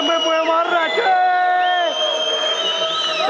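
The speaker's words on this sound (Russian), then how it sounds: "все орут, и мы будем орать." Football fans at a match roar and shout together, a dense, loud, sustained wall of voices with overlapping chanting tones throughout.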